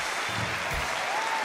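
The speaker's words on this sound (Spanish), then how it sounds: "Dame un aplauso" A television talk-show studio audience bursts into dense, steady applause, a continuous crowd clapping that fills the short moment without pause.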